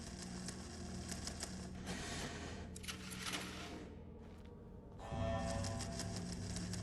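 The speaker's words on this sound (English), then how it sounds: "a room full of them all clacking away" Clacking of many typewriters at once filling a room in a horror video game set around Cauldron Lake, a dense, busy mechanical chatter with a steady hum underneath that grows louder near the end.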